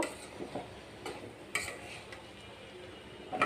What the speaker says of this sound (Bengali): তো এই যে আমি সাজনাটা এখন ডালের সাথে কষিয়ে নিচ্ছি